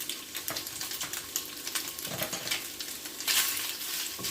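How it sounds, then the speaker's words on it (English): Soya chunks fry in hot oil in a pan, a soft continuous sizzle with crackles and occasional stirring scrapes, fairly quiet and close. "I'm going to fry the soya chunks."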